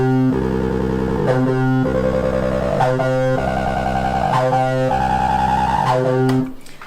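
A squelchy acid bassline from a Behringer TD-3 repeats a looping pattern, its resonant filter sweeping up and down, dry and loud, then cutting off at the end.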